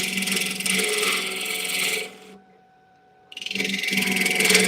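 A carbide tool cuts into a wooden decorative bowl spinning on a lathe, giving a loud, close rasping scrape that stops briefly to leave only the motor's whine, then resumes strongly.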